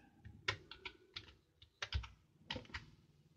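Close, irregular keystrokes on a computer keyboard as a word is typed into Omron PLC programming software, with quick clustered clicks and short pauses and no voices.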